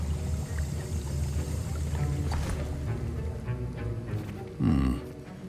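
A potion being stirred in a cauldron during a potions class in the game Hogwarts Legacy, a soft bubbling, sloshing churn under a low ambient hum, ending in a brief louder gurgling splash.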